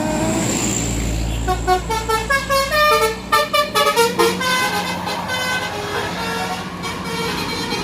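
Bus telolet horns play loud melodic toots in a rhythmic tune at a busy roadside gathering of buses, with engine rumble and crowd noise underneath and brief talk in the background.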